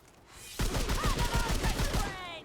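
Rapid gunfire in Remnant II, a sustained automatic burst of closely spaced shots that starts abruptly and stays loud, with a voice briefly heard over it.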